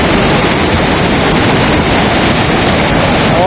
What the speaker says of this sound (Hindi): जगह जगह ब्यास नदी अपना विकराल रूप दिखा रही है